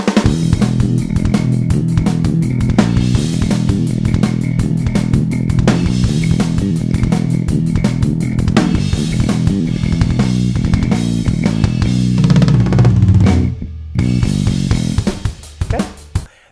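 An electric bass plays the fast, driving opening riff of a speed-metal song, loud and dense with rapid repeated notes and accents, ending in a brief slide and a few final hits.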